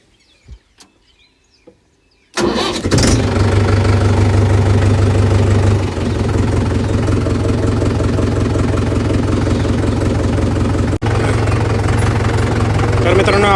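A John Deere 5210 tractor engine starts after a few quiet clicks, then runs loud and close with a steady knocking diesel idle and a brief dropout near the end.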